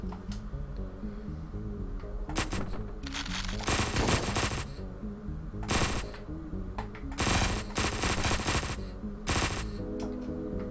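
Video game gunfire rattles in several rapid bursts of automatic fire, separated by short pauses, loud and close with no talking.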